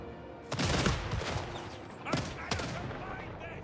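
In a Total War: Warhammer 3 siege battle, ranged units fire in ragged volleys, bursts of crackling shots in two main clusters over a quieter battlefield murmur, with a voice talking at moderate distance.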